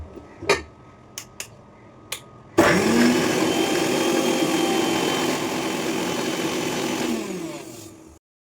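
A few light clicks and taps, then a mixer grinder starts and grinds spices, chana dal, urad dal and mustard seeds in a steady loud whir for about five seconds before winding down and stopping.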